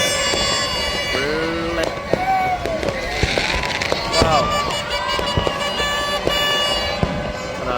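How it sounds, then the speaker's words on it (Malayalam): New Year firecrackers pop and crackle repeatedly in Kozhikode, near and far, with whistling rockets rising through a dense, lively background. "ഇവിടെ എല്ലായിടത്തും പടക്കം പൊട്ടിക്കുന്നത്"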